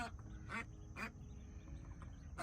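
A brood of eight hatched ducklings quacks in faint, spaced calls, three or four short quacks repeating about every half second over soft outdoor background noise.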